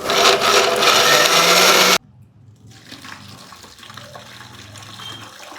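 A loud electric mixer grinding chili and ginger paste whirs for about two seconds and then cuts off abruptly, leaving quiet room noise with faint clatter.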